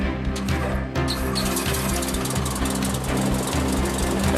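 A light aircraft's propeller engine runs steadily at close range, a loud continuous droning hum with strong low harmonics and no voices.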